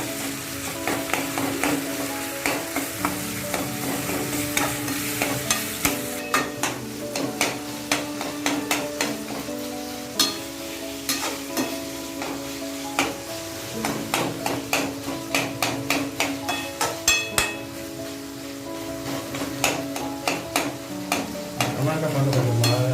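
Tomatoes and brinjal stirred and pressed in a pan, with a soft steady sizzle under repeated sharp scraping and clanking of a spoon against the pan, in close and fairly loud bursts; no talk.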